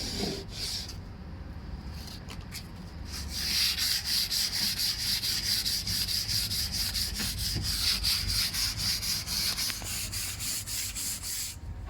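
Rapid back-and-forth rasping of coarse sandpaper scrubbing a wood surface, continuous and close, after a few short scrapes at the start.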